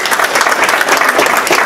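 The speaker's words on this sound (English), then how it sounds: "Another round of applause." A short burst of dense applause from an audience at a legislative conference advocacy training session, loud and close, steady throughout with no talk.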